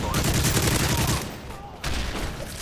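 Dense automatic gunfire in Call of Duty MW3, a continuous rattling burst that briefly drops away then resumes, close and loud.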